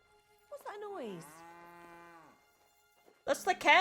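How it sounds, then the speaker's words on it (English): Cows in the game Kingdom Come: Deliverance II give a long drawn-out moo, clear and fairly close, with a brief lowing just before it and someone talking right after. "That's the cows, man."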